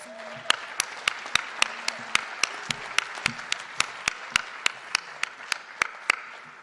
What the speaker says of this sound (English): let's give one more huge round of applause for all these performers